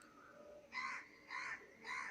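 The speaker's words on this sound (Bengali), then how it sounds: "কাক ডাকছে।" Crow cawing three times in steady succession on a foggy early morning, faint and somewhat distant, with no talking.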